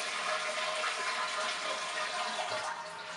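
A toilet flushes with a steady rushing gush of water, loud and close, running continuously throughout with no talking.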